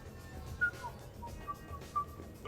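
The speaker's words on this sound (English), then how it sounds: "Are you whistling?" A character in Mass Effect Legendary Edition whistles a few short, faint, thin notes over a quiet game backdrop.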